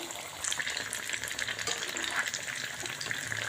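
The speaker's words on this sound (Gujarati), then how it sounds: "તળવા દેશો હવે ધીમા તાપે આપણે" Jar kebabs sizzle and crackle steadily in fresh hot oil over low heat, a continuous bright hiss close by.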